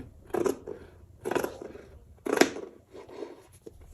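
Scissors cut through bag lining fabric in four distinct, crisp snips spaced about a second apart, close up and alone.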